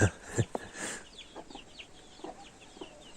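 Village hens with their chicks cluck softly nearby, a few low clucks at the start followed by a scatter of high, thin chick peeps over quiet ground.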